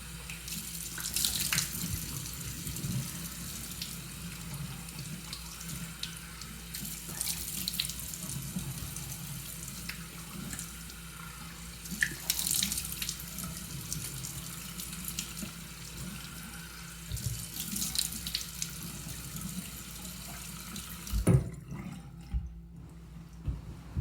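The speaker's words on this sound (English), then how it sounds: "To give it a nice rinse to make sure we got everything off." Lukewarm tap water runs steadily into a bathroom sink during a face rinse, with splashing hands breaking the flow in bursts before the water shuts off near the end.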